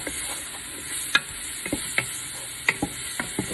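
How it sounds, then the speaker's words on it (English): Spaghetti sauce ingredients being stirred in a pan, with a gentle sizzle underneath and several distinct scrapes and clinks of the spoon at irregular intervals, close and fairly quiet. "I'm going to go ahead and mix it a little bit. Mix it all in together."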